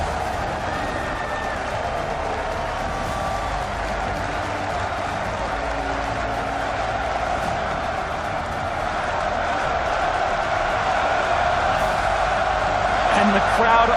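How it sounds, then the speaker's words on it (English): A crowd at a League of Legends esports match, a third-place deciding game, roars steadily and swells near the end, under an energetic commentator's voice. "And the crowd on their feet."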